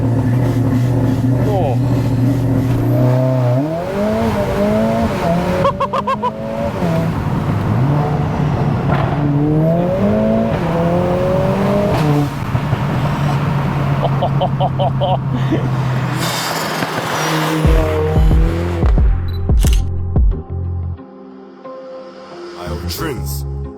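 A 500 bhp Mercedes A45S AMG with a catback exhaust revs hard and close, its engine note climbing and falling in repeated loud sweeps over a steady idle, ending with sharp pops and crackles and a brief spoken exclamation.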